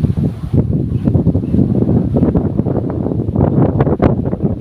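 Strong mountain wind buffets the microphone in continuous gusty rumbles, loud and close, with no voices.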